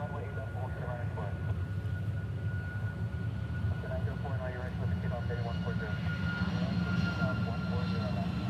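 A Qantas jet airliner departs from Hawaii, bound for Melbourne, its engines a steady, broad rumble that holds throughout beneath continuous talk.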